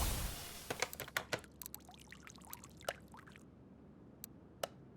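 Water pouring in the car repair video game Car Mechanic Simulator 2021, a gurgling, splashing stream with scattered drips and plops, fairly faint and tapering off near the end, no speech.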